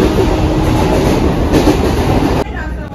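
A passenger train running on rails, loud and close, with a steady rumble and rattle of carriages that drops away abruptly near the end.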